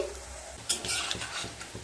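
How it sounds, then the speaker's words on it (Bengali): Pui shak (Malabar spinach) pakoras frying on medium-low heat in a pan of oil, a steady soft sizzle with a few scraping stirs and light clinks near the microphone. "এবার পকোড়াগুলোকে ভেজে নেব মিডিয়াম টু লো স্টিমে"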